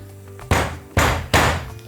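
Garlic cloves are crushed under a flat knife blade on a cutting board, three sharp, heavy thumps in quick succession, each with a short crunching decay, close and alone.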